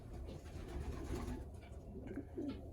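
A racing pigeon coos softly several times in a quiet loft, low murmuring calls repeating close by against faint background noise.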